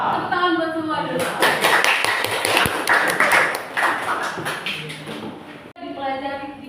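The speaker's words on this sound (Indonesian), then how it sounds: "Tepuk tangan buat semua dulu." A classroom of students claps hands together in a dense, lively burst lasting several seconds, with a teacher's voice speaking just before and right after.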